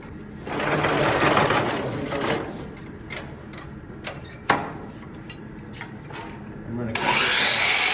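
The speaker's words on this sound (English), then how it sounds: "we're gonna go get over here to the miter box and we're gonna cut it" Hand saw cutting a 1x6 board held in a miter box for an Adirondack chair leg, rasping back-and-forth strokes building up near and loud, pausing, then resuming steadily, with a sharp knock midway.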